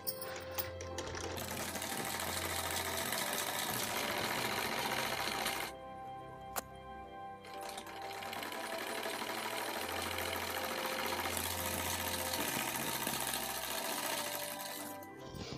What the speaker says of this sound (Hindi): पक्की सिलाई करने के लिए यहाँ पे एक सिलाई और लगा लेंगे ऊपर।